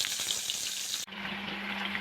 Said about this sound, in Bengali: গরম তেলে এখানে মাছের টুকরোগুলিকে দিয়ে দিয়েছি।